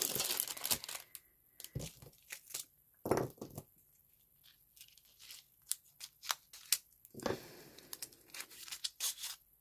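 Scissors cut open a plastic craft-supply package among crinkling and tearing wrapping, heard as irregular sharp snips and rustles separated by short quiet gaps, close and moderately loud.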